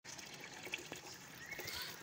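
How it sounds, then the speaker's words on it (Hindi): Water running from a tap into a bucket on a rooftop, a faint steady trickle and splash with small drips, heard alone at low volume. "बाल्टी भर रही है"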